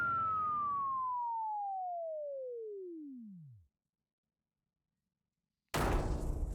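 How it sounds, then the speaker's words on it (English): A tractor beam effect in the video game Everhood: a loud, smooth electronic tone glides steadily downward in pitch for several seconds and fades out. After a pause, a short noisy burst follows. "Oh, I seem to be attracted by a tractor beam."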